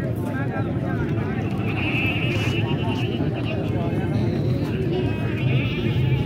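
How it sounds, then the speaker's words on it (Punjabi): Goats at a livestock market in Faisalabad bleat in wavering calls amid constant crowd noise and nearby talk. "ਖੂਬਸੂਰਤ ਬੱਕਰੀ ਹੈ"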